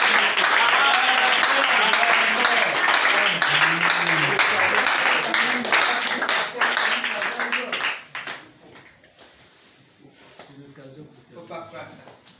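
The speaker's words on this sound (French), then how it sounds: "Acclamez très fort!" Loud, sustained applause and clapping from a church congregation fills the space, with voices and cheering mixed in; the applause fades after several seconds and scattered talk follows.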